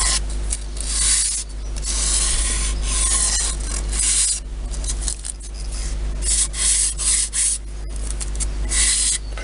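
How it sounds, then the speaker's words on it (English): Balsa formers for a Westland Wallace model aircraft fuselage are sanded by hand, a close, dry rasping rub in repeated uneven strokes with brief pauses, with no talking. "I just want to give them a quick sand to make sure they're identical."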